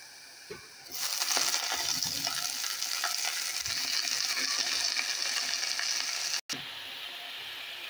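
Onions sizzle loudly in a hot pan, a dense steady frying hiss that surges in after a quiet moment and continues close up, with brief stirring scrapes and one sudden short cut near the end.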